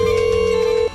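A phone call's ringing tone plays as one steady, loud electronic tone that holds for nearly a second and then cuts off, with no talk over it.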